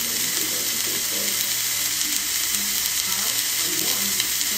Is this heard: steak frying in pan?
yes